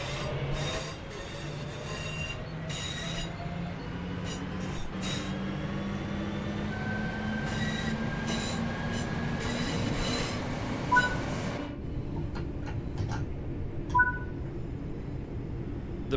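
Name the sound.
British Rail Class 323 electric train running, video game Train Sim World 4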